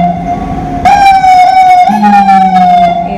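Loud, close emergency sirens from police cars, fire engines and ambulances wail in steady high tones, with a second siren cutting in and a lower horn-like tone layered beneath, and no voices.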